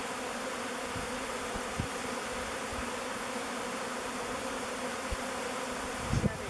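A dense swarm of honeybees hums continuously and close up as they cluster into a beard on a person's face, a steady buzzing drone with a few faint bumps and no clear talking.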